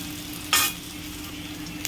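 Onions lightly frying in a pan for a soyabean chilli, a soft steady sizzle with one brief sharp scrape of stirring, close and quiet with no talk.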